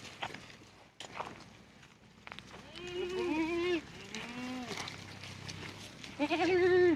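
A Kathiyawadi goat of the Bhavnagar type, with curved antelope-like horns, bleats on a goat farm: two loud, wavering calls close by, with people talking in the background.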